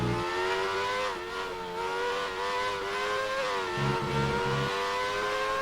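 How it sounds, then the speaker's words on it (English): Race car engine in a sim racing game at the Belgian GP, held at high revs with the throttle stabbed on and off several times through a corner, the pitch dipping and climbing in a steady loud drone. "He's giving the throttle 3 or 4 times throughout the corner. all the way on, all the way back off."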